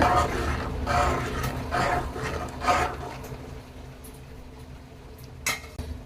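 Spinach sambar is stirred in a pot after salt goes in, producing soft metallic scraping and clinking of a spoon against the vessel in a few close strokes, then fading to quiet.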